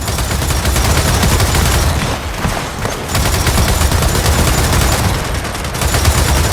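Sustained automatic gunfire from the Gears of War 4 video game, loud and dense bursts of rapid shots with a brief lull near the middle, no talking.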